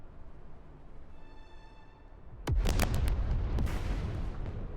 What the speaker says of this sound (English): That was a good time for the random explosion sound effects to fire.